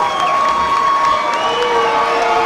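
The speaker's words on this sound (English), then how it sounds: "judging by the reaction of the crowd" Crowd cheering and shouting at the close of a Major League Muay Thai title fight, a steady roar of many voices with scattered whoops sustained throughout.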